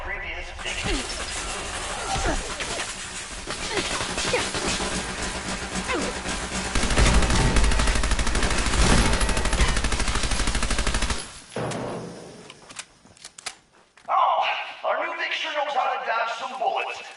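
Heavy sustained automatic gunfire and bullet impacts from the video game Fallout 4 roar for about eleven seconds, then cut out, leaving a voice speaking over sparse sound.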